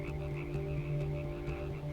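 Frog croaks in a hippie camp setting in Life is Strange, a repeated pulsing, throaty call with a droning tone, loud and near, with no voices.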